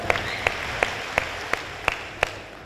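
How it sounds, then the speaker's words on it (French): At a ceremony in Chad, slow rhythmic claps ring out about three times a second, seven in a row, over a soft background of crowd murmur. "Applaudissements s'il vous plaît."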